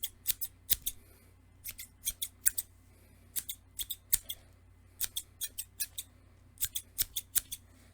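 Repeated sharp metallic snips of thinning scissors cutting hair, in quick clusters of two or three, close up against a quiet background.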